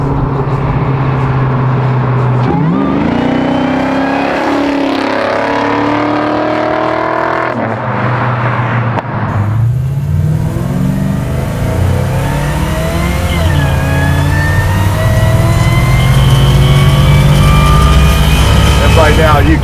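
A supercharged LSA-powered 1967 Pontiac GTO restomod accelerates hard from inside the cabin, its loud engine climbing in pitch, snapping through a firm gearshift, then pulling again with rising revs, while voices talk over it.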